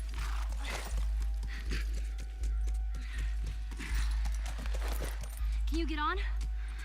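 Horse hooves clip-clop steadily in The Last of Us Remastered, a regular trotting rhythm over a low game hum, with a brief whinny near the end and voices talking over it.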